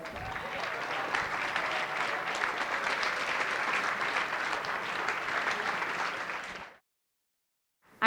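Wedding reception audience applauding steadily, a dense sustained wash of many hands clapping at close range for about seven seconds, then cutting off abruptly into silence before a brief new sound at the end.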